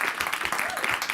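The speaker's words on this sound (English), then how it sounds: "let's give another round of applause for the terrific announcement and the progress" Conference audience at DePIN Day in Buenos Aires applauding, a dense, steady wash of clapping from a large crowd at moderate volume.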